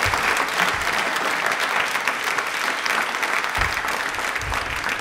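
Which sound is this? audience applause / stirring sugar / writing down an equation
audience applause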